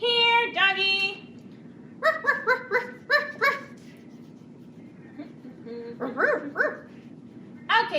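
A dog barks in a puppet show, several short yapping bursts in quick clusters with pauses between, close and clear, alongside giggling and a whimpering note.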